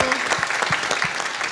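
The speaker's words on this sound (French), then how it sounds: "on peut applaudir pour eux" An audience at a wine guide launch event in Bordeaux applauds steadily, a dense wash of many hands clapping at close range with some individual claps standing out.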